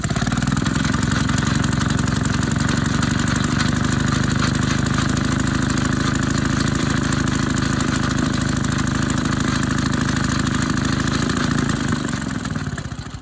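A Maytag 72 single-cylinder engine runs a power hacksaw, a steady rapid chugging idle heard up close and loud for the whole stretch, easing off slightly at the very end.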